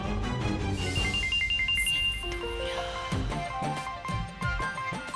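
A mobile phone ringtone plays an incoming-call melody of bright tonal notes over steady background music in a Hindi TV drama scene, with no talking over it.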